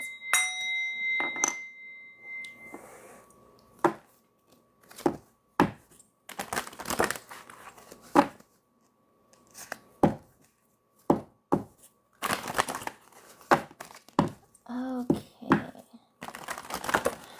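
Tarot cards are cleared and shuffled in bursts of crisp slapping, riffling and tapping against a surface, close and fairly loud, with brief pauses and faint talk early on.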